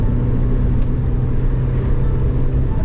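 A 1986 Porsche 944, modified, driving along a smooth, curvy road, its engine giving a steady, loud low rumble with the revs held fairly constant and no voices over it.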